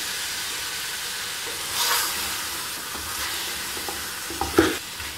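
Tomatoes go into a pot of frying whole spices and black pepper for a one-pot beef pulao, giving a continuous close sizzle with brief louder bursts and a sharp utensil clink toward the end.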